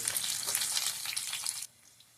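Onions hit a hot pan for a potato and green chilli fry, giving a bright, close sizzle with a little stirring noise. The sizzle cuts off abruptly near the end, leaving only quiet room tone.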